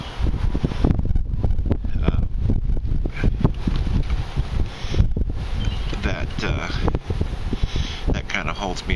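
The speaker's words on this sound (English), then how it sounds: "It's so windy." Heavy wind buffets the microphone, a constant low rumble with gusty bursts running under a person talking throughout.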